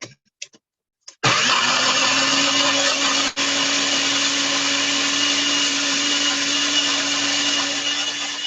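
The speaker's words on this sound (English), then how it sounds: "Let's get the blade on here, and then we'll be ready to blend." A blender whirs up to full speed blending cashews for vegan sour cream, a loud steady motor roar after a few brief taps, with a momentary dip midway.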